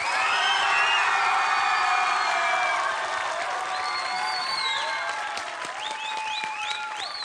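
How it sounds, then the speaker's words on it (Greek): A studio audience on a Greek game show applauds for contestant Nikos, sustained dense clapping mixed with whoops and whistles, loud and continuous and gradually easing. "θέλω αμερόληπτα να χειροκροτήσετε"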